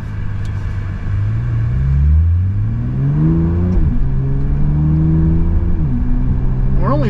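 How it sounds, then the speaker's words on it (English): A 2024 Bentley Continental GT Speed with all-wheel drive accelerates hard. Its deep engine note rises through the revs, drops sharply at each gear change, then climbs again, loud and steady inside the cabin with a low rumble throughout. "I love the fact that we got all-wheel drive to put the pedal down, put the power down. We'll zoom it around."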